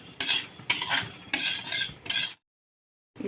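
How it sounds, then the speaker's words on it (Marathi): Coriander seeds dry roasting in a pan, stirred in four quick scraping bursts with the seeds rattling against the metal, then a short silence before another stir begins. "धने पण भाजून घ्यायचे आहेत."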